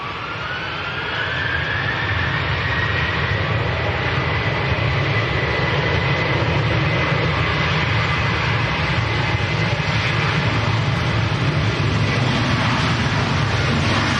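A Ryanair jet airliner departing for Krakow from Manchester Airport on a windy day, a loud sustained jet-engine roar with a rising whine that swells early and then holds steady.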